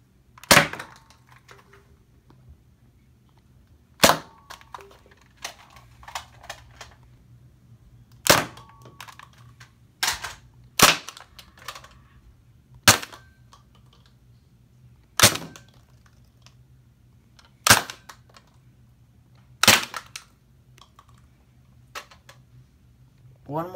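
Nerf Sidestrike and Jaguar toy blasters fire about a dozen single shots, each a sharp, snappy pop. The shots come at irregular intervals, with quiet handling and priming clicks between them.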